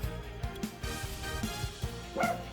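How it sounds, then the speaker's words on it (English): A dog barks repeatedly indoors, a series of sharp, moderately close barks and yips at irregular intervals, heard alone. "as the dog starts barking"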